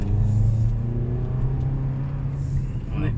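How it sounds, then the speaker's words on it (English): A 2019 Toyota RAV4 Limited in sport mode accelerating hard, a steady low engine drone and rising rumble heard from inside the cabin, continuous throughout. "Give it full acceleration and put it on sport"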